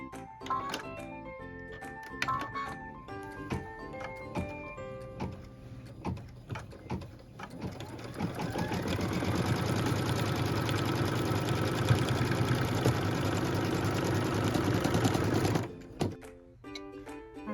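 A sewing machine stitching through a fused, pieced quilt block, starting with a few clicks and handling sounds, then a steady loud motor whir with needle chatter for about seven seconds before stopping.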